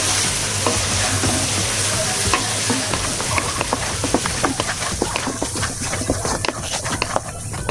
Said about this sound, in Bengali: এবং আস্তে আস্তে কষিয়ে নিতে হবে।